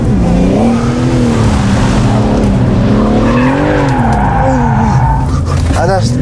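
A car speeds off with engine revs rising and falling and tires squealing in a skid, loud and close, while people talk and exclaim over it.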